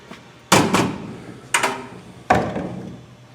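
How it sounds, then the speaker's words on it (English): A hammer drives nails to fix an electrical light box to wall studs, landing three loud, sharp blows at uneven intervals, each ringing briefly before the next. "I am just going to randomly nail it"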